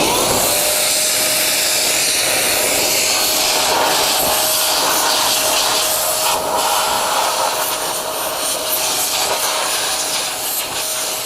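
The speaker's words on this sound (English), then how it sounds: "And then dry the wheel normally with forced air." A forced-air blower dries a car wheel after cleaning, producing a loud, steady, close-up rush of air with a faint tonal whine throughout.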